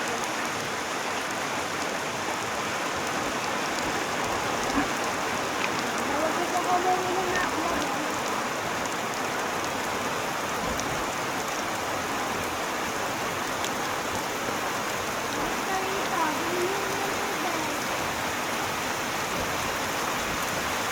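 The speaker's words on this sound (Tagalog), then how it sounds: "Lakas ng ulan guys" Heavy rain pours down steadily outdoors, a dense, even hiss of drops on surfaces that holds at the same loud level from start to finish, with no voices heard.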